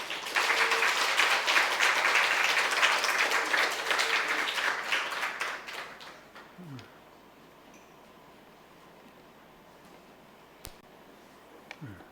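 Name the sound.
audience applause in church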